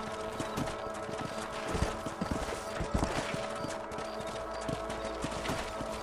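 Horse hooves clip-clopping at a steady walking rhythm on a ranch in Red Dead Redemption, close and clear, with a continuous outdoor ambience underneath.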